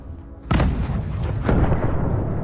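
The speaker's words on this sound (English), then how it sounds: "causing a massive explosion" A drone strike on a tank sets off a massive explosion, a sudden loud boom followed by a second heavy blast a second later, both trailing into a sustained rumbling roar.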